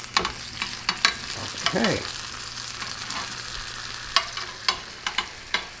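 Stuffed Italian frying peppers sizzling in a pan, a steady crackling fry punctuated by sharp clacks and scrapes of a utensil turning them; a brief spoken word is heard.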